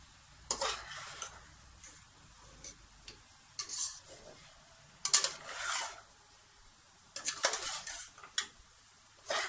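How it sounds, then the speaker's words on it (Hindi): Fried rice with egg and vegetables is stirred briskly in a pan, giving irregular bursts of spatula scraping and clatter over a soft, steady sizzle, with no talking. "तो इसको अब हम तेजी से चला देंगे, मिक्स कर देंगे सब्जियों को हम चावलों में।"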